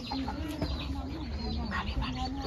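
Chickens clucking softly in the background, short repeated calls over steady outdoor ambience, with faint voices mixed in.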